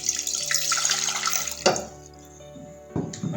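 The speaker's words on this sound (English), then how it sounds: "put your pot on the stove, and then to that you wanna go ahead and add some water." Water is poured into a pot on the stove for basil tea, giving a close, loud rushing splash that tapers off, then a brief second pour near the end.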